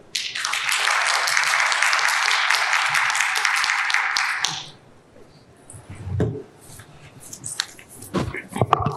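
Audience applause at a clinical meeting's oral poster session, a dense, loud burst of clapping that lasts about four and a half seconds, then gives way to a quiet room with a few soft thumps and rustles.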